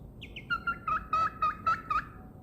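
A pet chicken perched on a person's shoulder sings a rhythmic series of seven or eight warbling, tonal calls, close and clear, each rising slightly, in a steady pulsing pattern.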